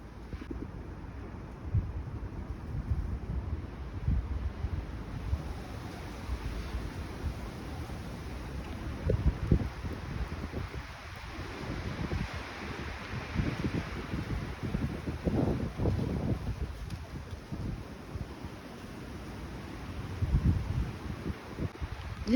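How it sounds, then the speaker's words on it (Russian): Very strong wind gusts by the sea in Yalta during a snowfall, a steady roaring rush with repeated louder buffets battering the microphone, continuous throughout with no talk. "Очень сильный ветер."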